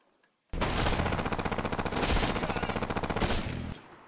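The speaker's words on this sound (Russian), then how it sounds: "От такой стрельбы." Rapid, sustained automatic gunfire from the video game Hatred, a dense rattling burst lasting about three seconds after a brief silence, loud and close, then stopping abruptly.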